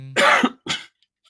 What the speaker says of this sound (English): I'm still getting over my 100-day cough.